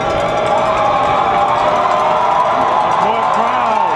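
A high-school football stadium crowd at a state championship game, a steady loud wash of cheering and shouting from many spectators, with voices and whoops rising through the roar.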